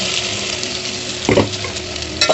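Ground tomato-tamarind spice paste hits hot oil with frying okra in a pan, a loud continuous sizzle with a couple of thick wet splats as the paste drops in, no voices.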